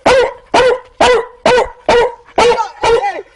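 A man imitates a bulldog, voicing seven gruff, evenly spaced barks in a steady rhythm, loud and close with no other sound between them.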